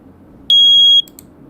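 A bank alarm sound effect in Roblox Studio plays as a single loud, high, piercing tone lasting about half a second, abrupt on and off, with near silence around it.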